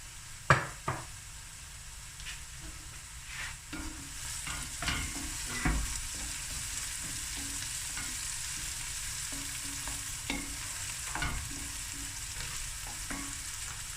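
Cubed potatoes fry with golden onions in a pot, a quiet steady sizzle with occasional soft stirring scrapes and one sharp knock at the start.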